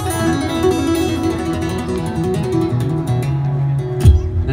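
A lead guitar plays a melodic solo line with bends and sliding notes over a steady, busy backing track of drums and bass.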